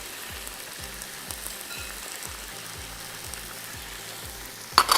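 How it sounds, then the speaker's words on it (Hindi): Onion and garlic sauté with butter in a pan, a steady close sizzle with faint rhythmic low thumps underneath and a sharp clatter near the end, no one talking. "एक पैन में आपने प्याज और लहसुन को सौते किया, इसमें आप मक्खन डालेंगे"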